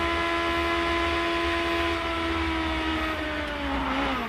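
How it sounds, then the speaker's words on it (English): IndyCar engine with its throttle stuck open as the car touches the wall, heard onboard as a loud sustained high whine whose pitch slides downward near the end. "You can hear the throttle sticking open when you touch into the wall."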